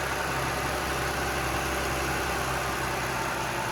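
A Chrysler Pacifica engine idles steadily after an auxiliary battery replacement, a constant close hum with low rumble and no voices.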